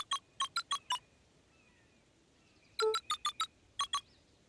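Keypad entry tones from the video game Beacon Pines ring out as short, bright electronic beeps in quick bursts of four or five, with a pause between groups and no voices.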